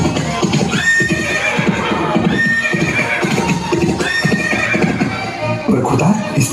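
A wounded horse neighs and whinnies loudly in a staged Maharana Pratap drama, repeated shrill cries over a busy, echoing background with faint hoof clatter and murmuring voices.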